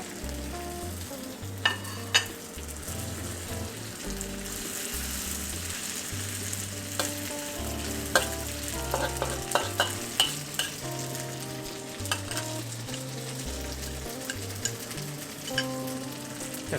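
Koay Teow flat rice noodles are stir-fried in a wok for Penang Char Koay Teow, with a steady loud sizzle and repeated scraping and tapping of a utensil against the pan throughout, no voices.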